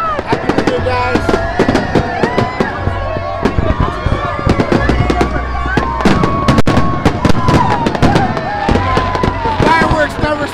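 New Year's Eve fireworks exploding in rapid, dense bursts of loud cracks and booms, overlapping continuously with whistling rising tones, close and overwhelming throughout.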